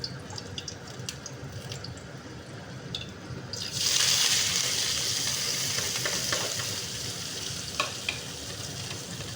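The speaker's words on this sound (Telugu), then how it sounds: "Oil కాగినట్టుంది friends. దాంట్లో ముందు ఆనియన్స్ వేస్తున్నా." Onions drop into hot oil for a chicken fry, and a loud sizzle bursts up partway through, then settles into a steady hissing fry with faint clinks from the pan.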